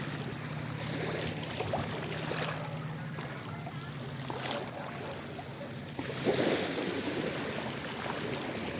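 Calm sea with small waves lapping along a shore, a soft continuous wash and trickle of water at low level, with a slight swell of louder splashing toward the end.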